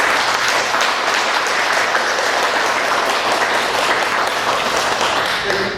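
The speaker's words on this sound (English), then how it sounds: "So let's give a round of applause to" Sustained round of applause from an audience at a civic leadership forum, steady dense clapping at a loud, even level throughout with no pauses.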